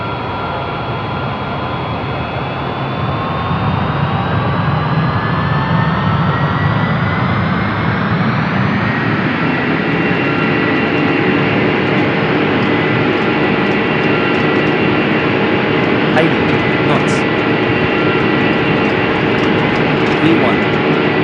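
Jet engines of a Singapore Airlines Boeing 787-8 spool up during the takeoff roll at Singapore Changi, a loud steady roar whose whine rises in pitch and then holds, with radio-style talk faintly over it.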